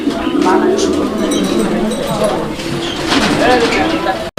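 Fancy pigeons coo continuously in a noisy setting, their low rolling calls overlapping with people talking nearby.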